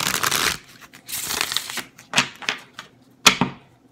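A deck of tarot cards is shuffled up close, with quick papery riffles and soft flicks in short bursts, ending in a couple of sharp taps, and no talking.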